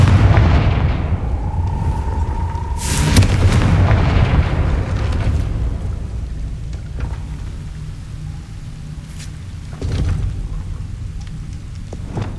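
A Confringo fire-blasting spell exploding in Hogwarts Legacy, a loud booming blast with a rumbling burst of fire, then a fading crackling tail and a second smaller thump later, with no voice over it.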